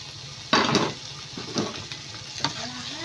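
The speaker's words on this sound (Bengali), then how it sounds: "টমেটো সসের সাথে আমি এই সব ভেজিটেবলগুলোকে ভালো করে" Vegetables stir-frying with tomato sauce for fried rice sizzle steadily, broken by several loud scraping stirs of a spatula in the pan, close up.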